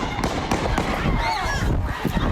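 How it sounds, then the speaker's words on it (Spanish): A rapid burst of gunshots during a protest over a statue of the conquistador Juan de Oñate: sharp cracks in quick succession, loud and close, heard over a noisy background. "Tras oírse una ráfaga de disparos"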